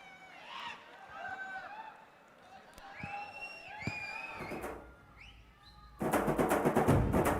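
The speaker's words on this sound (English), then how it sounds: "A round of applause, ladies and gentlemen," An audience at the RRR pre-release event in Kerala breaks into loud, dense applause that begins suddenly after a few seconds of scattered whistles and crowd noise.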